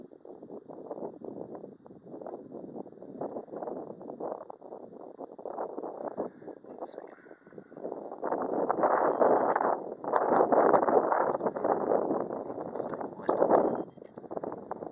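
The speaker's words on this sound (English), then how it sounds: "I've got a bit of wind going on here. It's messing with my scale." Gusty wind buffets an outdoor microphone in a steady broadband rumble, growing louder and rougher in the second half, with faint higher ticks above it and no speech.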